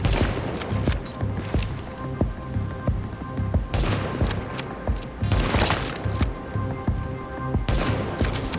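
Gunfire in the video game The Division, with bursts of rapid shots and heavier booms repeating irregularly across the clip, loud and close, with no talking.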